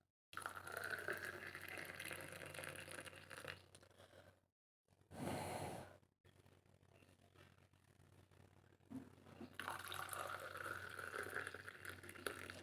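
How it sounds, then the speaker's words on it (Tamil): Milk poured into a tumbler of filter coffee decoction, a soft liquid trickle and splash that comes in short spells with quiet gaps between them, faint and close. "இப்போ பால் விட்டுக்கலாம்."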